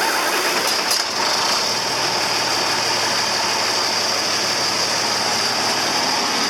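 A large diesel engine, a 4320 tractor primed with ether, catches and keeps running with a loud, dense, steady roar that fills the whole stretch, with a brief sharp rattle near the start.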